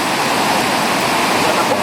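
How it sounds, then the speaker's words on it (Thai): Waterfall at the top of Tad Huay Xieng in Attapeu, Laos, a dense, loud, continuous rush of falling water with no pauses, close by. "นี่คือหัวน้ำตกนะ"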